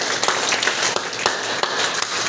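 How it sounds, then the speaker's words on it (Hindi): Parents and attendees at a school parents' meeting clap together in a short, busy round of applause, steady and fairly close, with a few sharper individual claps standing out. "तो एक बार तालियां हो जाए।"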